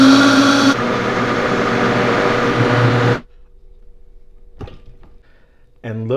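Countertop blender whirs loudly as it purees a green cilantro-avocado sauce for chicken taquitos, running steadily for about three seconds before cutting off, followed by quiet clicks and a brief restart near the end.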